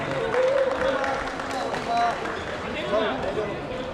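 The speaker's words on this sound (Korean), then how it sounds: "자 챔피언에 오른 우리 이준민 선수에게 다시 한 번 힘찬 박수 부탁드리겠습니다." A crowd at an elementary-school 50 kg bantamweight kickboxing championship bout applauds steadily for the new champion, while a voice talks loudly over the clapping.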